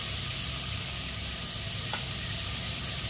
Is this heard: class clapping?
no